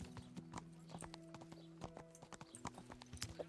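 Horse hooves clip-clop at a steady walking pace in the medieval video game Kingdom Come: Deliverance, crisp and close, with quiet music-like tones beneath and no talk.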